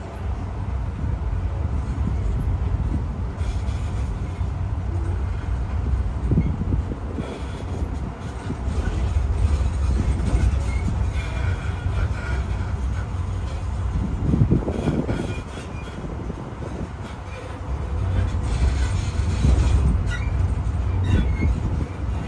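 Disneyland tram rolling along its route, a loud, steady rumble that runs throughout with occasional swells and wheel squeals.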